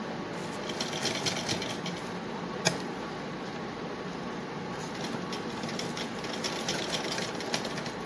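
A sewing machine stitches a homemade cloth face mask, running steadily and close with a fast even whirring clatter and one sharp click partway through, no speech.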